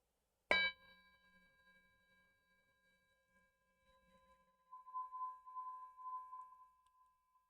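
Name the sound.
meditation bell being rung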